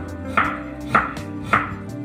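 A knife chops beetroot into thin julienne strips on a board: three crisp, evenly spaced chops, close and clear, with no talking.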